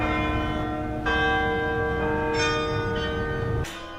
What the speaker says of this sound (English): But have you ever thought about who's ringing those bells?